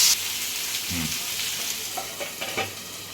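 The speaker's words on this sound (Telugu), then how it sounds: "ఇప్పుడు కొద్దిగా టమోటా ముక్కలు వేసుకొని బాగా ఫ్రై చేసుకోవాలి." Tomato pieces fry with chopped green chilli and ginger in a pan for tomato bath upma. The sizzle is steady and fairly loud, and a spoon stirs and scrapes the pan a few times.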